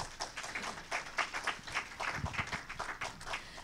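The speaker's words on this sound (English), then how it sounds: "let's have a little round of applause for Monique" Audience applause for Monique at a business talk, a short patter of scattered claps from a modest crowd, fairly quiet and uneven.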